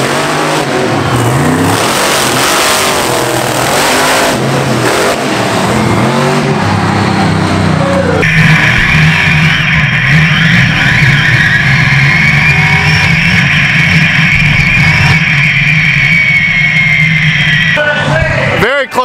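Monster trucks Nightlife and Equalizer drag racing side by side in far and near lanes at a live event, engines roaring loud and continuous, with a sustained high whine building midway, while people talk over the din.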